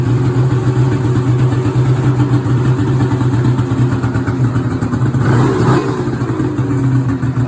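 2008 Summit snowmobile engine running steadily after a cold start, a loud close idle with a constant low drone and a brief rise in revs near the end.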